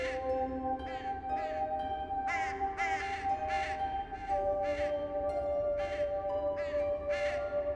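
Several crows caw in irregular bursts, harsh repeated calls rising and falling over a steady background tone, fairly close and clear with no voices.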